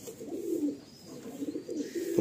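A pigeon coos close by in soft, low, rolling phrases, a few repeated calls with a brief louder burst at the end, and faint background noise.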